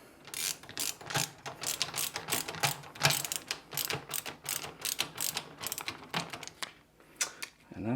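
A screwdriver drives screws to fix a desktop computer fan into the case, giving a rapid run of close, sharp ratcheting clicks in uneven bursts.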